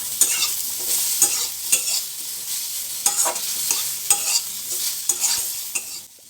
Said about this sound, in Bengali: আদার কাঁচা গন্ধটা যাওয়া অবধি এটা একটু ভালো করে ভেজে নিতে হবে